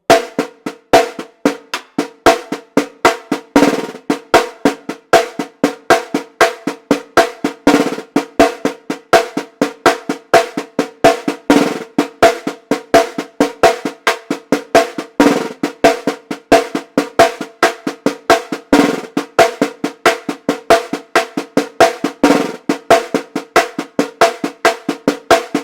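A samba drum pattern in the Mangueira style, played solo as a steady, fast stream of strokes with regularly recurring accented hits, close and clear with no talking.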